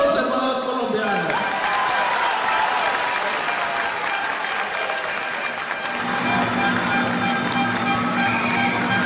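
Loud, sustained applause from a crowd at a Colombian Conservative Party political rally in Córdoba fills the whole stretch, with dense clapping and a few cheers throughout.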